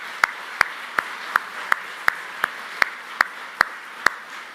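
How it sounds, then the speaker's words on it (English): Steady, evenly spaced claps ring out one at a time, close and crisp, as an audience at a vice-presidential rally in Rocky Mount, North Carolina applauds military veterans; no voices. "Let's give those guys a round of applause."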